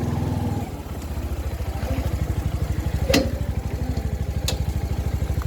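A motorcycle engine idles close by with a steady, rapid thumping putter, joined by a couple of brief metallic clicks before it is parked at Kushma Bazar.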